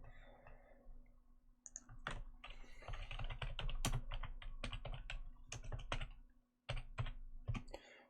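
Someone types a search on a computer keyboard, a close, quick run of crisp key clicks with brief pauses between bursts.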